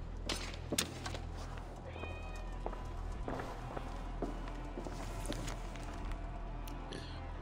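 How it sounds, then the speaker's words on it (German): A cat meows in Assassin's Creed Valhalla, a couple of soft calls over light footsteps and quiet in-game ambience. "Oh, hier ist eine Katze."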